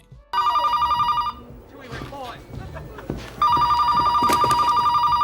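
Telephone rings in a movie scene: two bursts of a bright electronic trill, the first over about a second, then a gap filled with talk, then a louder second ring.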